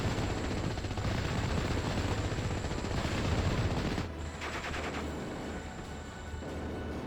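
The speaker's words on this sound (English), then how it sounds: "Churchill observation post is also now engaging with his two 50 cal machine guns." Two .50 cal machine guns on an observation post fire in a war strategy video game, a dense continuous rattle of gunfire that fills the whole stretch, loud and steady, easing slightly partway through as other battle noise continues.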